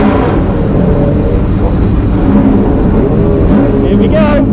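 A 3.5-litre McLaren F1 GTR race car with straight-through exhaust pipes roars loudly and continuously at close range, its engine note shifting as it revs, with voices talking over the din.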